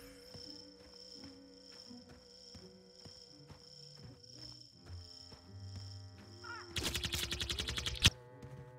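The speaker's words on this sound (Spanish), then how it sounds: "Tiros, tiros, tiros y tiros." Gunfire from a Ghostbusters video game erupts as a rapid burst of shots for about a second and a half, loud over steady game music and humming ambience, ending in a sharp crack.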